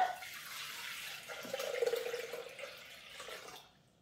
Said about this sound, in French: on va aller remettre 1 litre d'eau à l'intérieur.